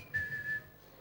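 A preacher imitates a whistle used by a parent to call a child: a single short, steady high-pitched whistle of about half a second, faint and alone.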